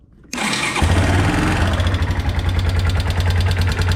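A Kawasaki motorcycle engine with unusually loud valve tapping catches after brief quiet, then roars close and loud under throttle, holding a steady raspy drone with a fast rhythmic ticking running through it.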